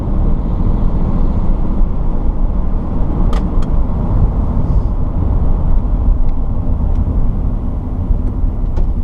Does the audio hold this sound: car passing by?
yes